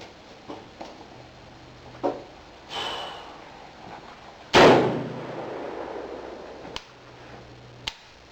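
A Remington Model 11 12-gauge shotgun fires once during function testing with heavy-load recoil settings, a single sharp blast standing out loud and alone amid faint background ticks and clicks.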